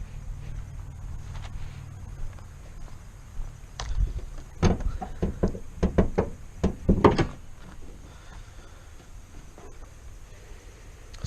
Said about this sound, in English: Let's pop the hood and see what's under there.